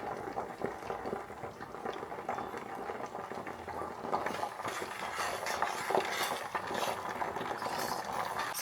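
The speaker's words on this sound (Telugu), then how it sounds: "మందారాకులు కరివేపాకులు మొత్తం కూడా అవేంటంటే ఆయిల్లో కలిసి ఇట్లా పేలుతున్నట్టు ఉంటాయి అన్నమాట" Hibiscus leaves and curry leaves crackle and sputter steadily in hot oil, a dense continuous sizzle with tiny pops, close and moderately loud, with no talking.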